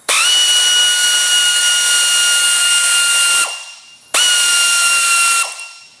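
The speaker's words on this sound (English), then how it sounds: "We'll now be demonstrating the 3/8 air ratchet by removing the bolt from the motor." A 3/8 air ratchet removing a bolt from a motor whines loudly in two long bursts, the first about three and a half seconds and the second shorter after a brief pause, each ending in a dropping hiss.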